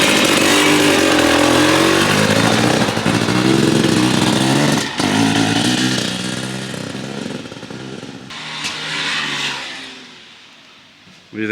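A motorcycle engine runs loud and close, revving steadily with a brief dip near the middle before trailing off toward the end.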